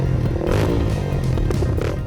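A superbike on wet MRF tyres with an HRC programmable ECU and a huge free-flow exhaust roars loudly on a race track, a close, throbbing engine note with rapid pulsing across the whole stretch.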